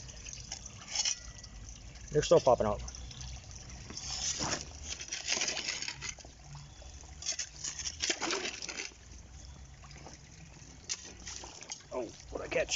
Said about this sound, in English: I mean, we have water flowing into it too.